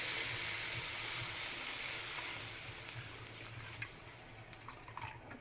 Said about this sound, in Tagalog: ibuhos, lagyan na natin ng tubig